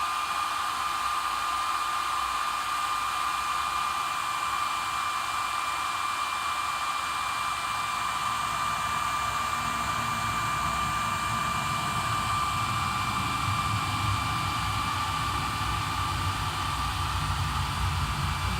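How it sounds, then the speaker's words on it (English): A hairdryer blows a constant airy roar with a faint steady whine onto damp cotton fibres being dried into flash cotton, close and unbroken throughout, with the tone shifting slightly as the airflow is redirected, no voices. "So again, with the hairdryer, just give it a last little blast."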